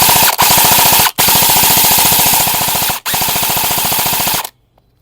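An airsoft gun firing full auto lets out three long rattling bursts of rapid shots, separated by brief gaps, loud and close. The last burst is followed by silence.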